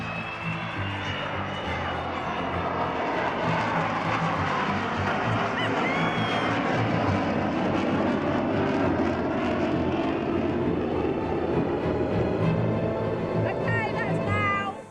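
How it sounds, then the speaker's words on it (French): An Avro Vulcan bomber roars loudly and continuously overhead at an air show, a dense, sustained jet rumble with rising whine, with crowd voices faintly beneath it. "elle ne s'attendait pas à la puissance du bombardier Vulcain"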